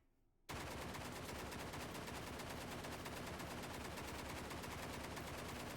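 Automatic weapon fire in a VR shooting game: a sustained, loud burst of rapid shots that starts abruptly after a brief quiet moment and continues without a break to the end.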